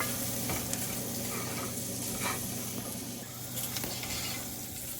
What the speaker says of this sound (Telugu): ఇట్లా మొత్తం కూడా మంచిగా మసాలాలన్నీ మిక్స్ అయ్యే విధంగా కలిపేసుకోవాలి